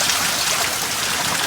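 Water runs steadily from a newly installed outdoor tap at a village bathing spot, a continuous close splashing rush with no voices.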